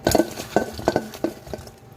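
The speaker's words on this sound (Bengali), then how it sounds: "ভালো করে মিশিয়ে নেব।" A spatula stirs salt and spices together in a pan for a pointed gourd dish, giving about six rhythmic scraping strokes, close and clear, with no voices.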